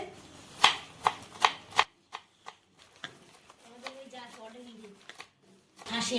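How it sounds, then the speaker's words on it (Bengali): A knife chops onions and green chillies on a board in a few sharp, evenly spaced taps, followed by softer scattered cuts as a voice talks nearby. "তোমাদের কাকু এই যে পেঁয়াজ কাঁচা লঙ্কা কাটছে"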